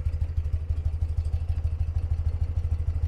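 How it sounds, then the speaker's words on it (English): A 1982 BMW R100RT motorcycle engine idles steadily up close, its rapid, even low-pitched pulsing thumping away without pause. "Really, really nice tuned and nice running bike."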